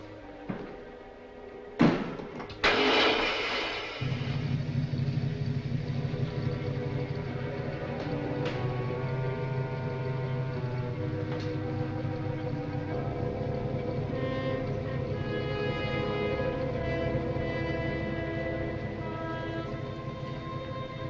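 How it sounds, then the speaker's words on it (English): A motor starts with a few sharp mechanical clunks, then settles into a steady low droning run that holds for a long stretch, as in a 1940s mystery film scene. "Start the motor."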